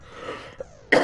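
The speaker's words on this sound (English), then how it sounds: "Also, that cough, ugh." A single sharp cough bursts out near the end, close and loud, after a quiet stretch with a faint brief click.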